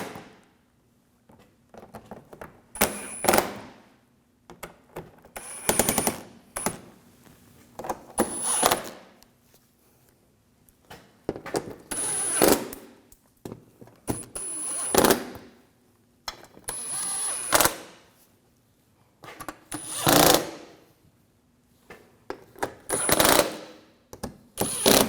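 Bursts of a power tool run in short repeated spurts, each a few seconds long with brief pauses between, as screws are driven into the front lower grille of a 2007-2013 BMW 328i, close by with no talk.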